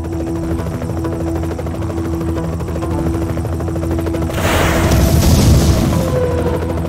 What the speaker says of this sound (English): The helicopter will not be able to follow us into the tunnel.